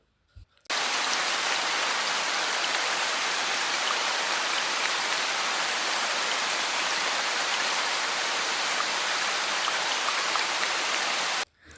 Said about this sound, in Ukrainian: Так, дітки, це дощ.